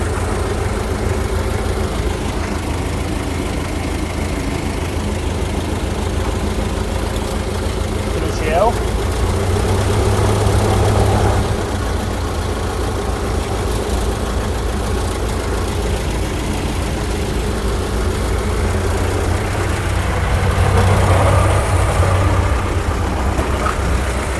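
A broken-down T-40 tractor's diesel engine runs steadily at idle, a low continuous rumble throughout with brief louder surges, while people talk nearby.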